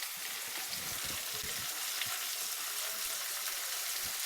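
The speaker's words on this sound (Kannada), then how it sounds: "ನಂತರ ಇಲ್ಲಿ ಈರುಳ್ಳಿ ಕೂಡ ಫ್ರೈ ಆಗ್ತಾ ಇದೆ ನೋಡಿ" Onions frying in a pan for chicken sambar give a steady, close sizzle with a few soft stirring knocks underneath. It runs evenly the whole time with no voices over it.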